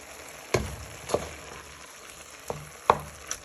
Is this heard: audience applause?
no